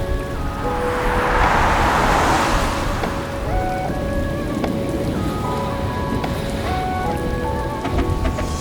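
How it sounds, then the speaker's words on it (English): Steady rain patters on a hard surface aboard the Northern Explorer train in New Zealand, a broad hiss with dense drops, heavier for a few seconds early on, with faint tonal sounds in the background. "It's a very rainy day today"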